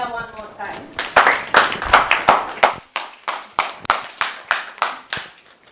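Audience at a Miss Muslimah Ghana pageant talk show clapping, a short burst of applause that thins into a slower, rhythmic run of a dozen distinct claps, loud and close, with a voice briefly heard at the start.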